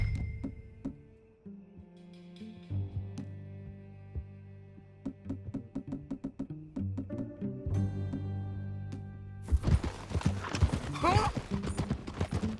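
Horse hooves clip-clop in Red Dead Redemption 2, a steady trotting rhythm of close, moderate hoofbeats under game music, with a louder, busier burst of noise near the end.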